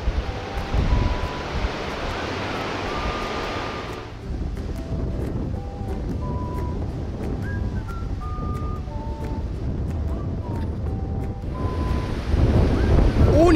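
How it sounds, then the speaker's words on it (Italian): Strong wind at the Scala dei Turchi in Sicily, with rain, buffets the microphone in a constant loud roar, with gusts fading briefly then surging back, over a faint tonal background. "C'è vento forte."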